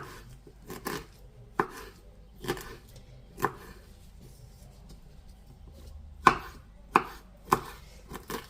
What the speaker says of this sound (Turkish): Böyle ince ince keseceksiniz.